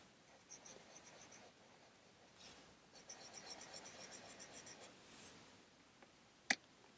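A heavy duty mechanical pencil loaded with 2B lead scratches across paper in bursts of soft strokes and scribbles, ending with one sharp tap, quiet and close.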